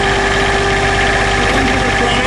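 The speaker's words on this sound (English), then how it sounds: "I'm going to push in both of these buttons to start the engine." Loud, steady engine running on a Stepp OJK 250 after starting, a constant droning hum with a mechanical rattle underneath, with no break.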